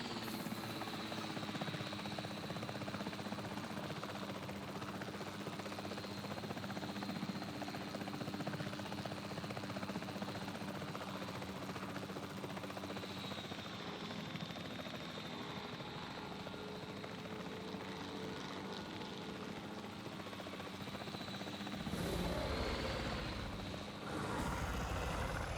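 Helicopter flying in Jurassic World Evolution 3, a continuous rotor and engine drone held at a steady level throughout, with a brief louder swell and shift near the end.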